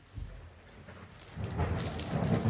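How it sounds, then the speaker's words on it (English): A thunderstorm hitting, with a low rumble of thunder and rain building into a louder, denser wash of rain and wind gusts, heard without any talking. "that was the sound of the big storm hitting us"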